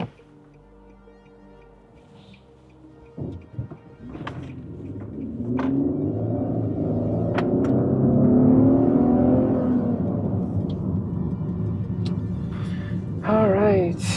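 A car, an Infiniti QX70, moves through traffic, its engine and road rumble swelling as it pulls away and then holding as a steady whir, with brief clicks and a short tonal sound near the end. A voice is heard early on.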